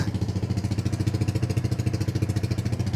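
A Scomadi scooter engine runs steadily nearby with a rhythmic, throbbing mid-pitched putter that pulses evenly for a few seconds, with no one talking.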